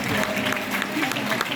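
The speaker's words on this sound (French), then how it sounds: "Oui, on peut vous applaudir" Audience applause at the closing ceremony of the 63rd Monte-Carlo International Television Festival, a brief, steady wash of clapping with voices talking over it.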